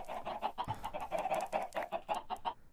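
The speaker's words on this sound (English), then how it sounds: "Too much chickens. You're gonna lag the server." Chickens in the Minecraft video game cluck in a quick, busy series of short repeated calls, several birds overlapping close up with no talking over them.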